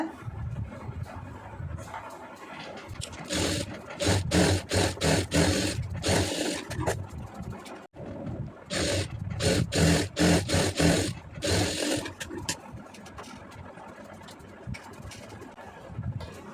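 A sewing machine runs small stitches around a cross-cut blouse lining, its rapid mechanical whirr and clatter coming in several loud bursts separated by brief pauses.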